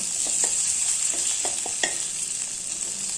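Black masala with onion frying in oil in a pan for a spicy Maharashtrian curry: a constant hissing sizzle, close and loud, with several soft scraping strokes of a stirring spoon scattered throughout.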